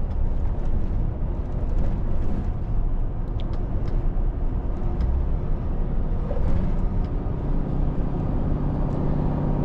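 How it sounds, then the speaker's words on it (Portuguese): A steady, loud, rumbling engine drone, like a heavy truck's engine brake, continuous throughout with a deep low-end roar and no talking. "Barulhinho gostoso do freio motor."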